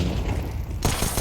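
A flashbang goes off in Counter-Strike on the Inferno map during a match: a short, sharp burst over a rumbling, busy game backdrop.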